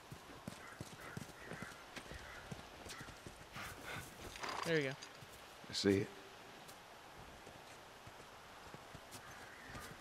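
Horse hooves clip-clopping in The Last of Us video game, two short bursts of steps heard mid-distance over a low ambient hum, with a person talking around them.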